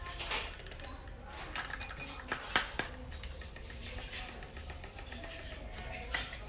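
A spoon stirs a barley drink in a cup, giving light, quick metallic clinks and scrapes in a loose rhythm, close and fairly quiet against a soft background hiss.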